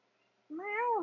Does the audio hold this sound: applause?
no